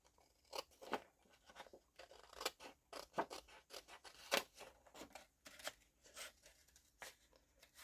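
Scissors cutting a paper card lengthwise, a series of crisp, quiet snips and scratchy slices in an irregular rhythm, close by and alone.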